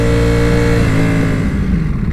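A 2018 Ducati Panigale V4S motorcycle engine revs loudly and steadily, its exhaust producing a continuous, close, growling roar that holds throughout.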